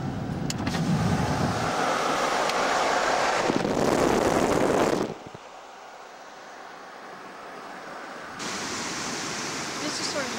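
A van driving along a road beside a waterway, with loud broadband road and wind roar that drops abruptly halfway through and then rises slightly again, and no talking.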